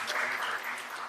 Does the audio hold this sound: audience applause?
yes